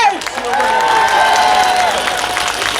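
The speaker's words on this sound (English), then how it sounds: "Put your hands together!" A large outdoor crowd at a rally in George Square claps and cheers steadily, loud and sustained throughout, with no single voice standing out.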